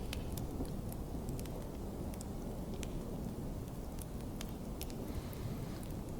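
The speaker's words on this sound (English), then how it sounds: "You were out in that storm for quite a while." Steady, close rain from a storm fills the whole stretch as a dense, even hiss with scattered sharp droplet ticks; no distinct thunderclap stands out.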